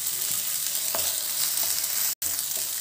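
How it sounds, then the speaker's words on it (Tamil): Ginger garlic paste sautéing in oil for an egg masala fry gives a steady close sizzle with a few soft stirring scrapes, broken by a brief cut to silence. "இஞ்சி பூண்டோட பச்சை வாசனை போகிற அளவுக்கு கொஞ்சம் வதக்கி விட்டுக்கலாம்."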